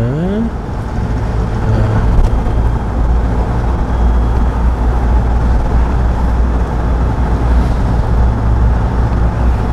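A car in a driving lesson accelerates, its engine rising as a loud, steady rumble with road and cabin noise throughout; a pitch sweep climbs near the start.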